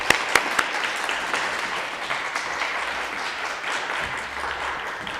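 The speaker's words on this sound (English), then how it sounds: "Let's give an applause to Natalia." Audience applause fills a public speaking competition final, a dense steady wash of clapping with a few sharp claps near the start, sustained for several seconds without speech.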